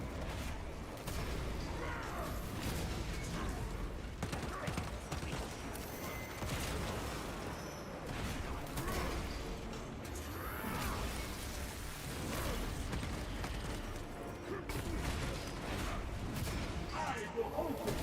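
Dense barrage of incoming artillery fire in a video game battle, with continuous booms and blasts layered loudly over constant background noise and a voice talking throughout.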